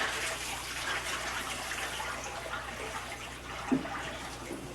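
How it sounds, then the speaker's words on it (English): Water dumped out of a container after a pumping test, a steady wash of pouring and splashing at moderate distance with one brief knock near the end. "we'll dump this water out"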